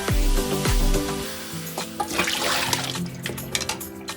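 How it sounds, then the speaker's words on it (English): Cold tap water pours steadily over drained glass noodles in a sink, a close, continuous splashing stream with a few clunks at the start. "Then drain the noodles and rinse with cold water for about 30 seconds."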